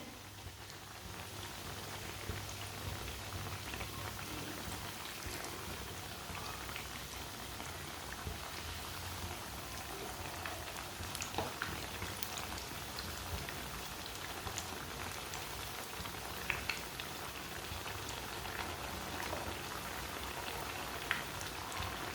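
Shami kebabs fry in a pan over a raised stove flame, giving a steady, dense sizzle and crackle with scattered small pops throughout, close and even, with no talk.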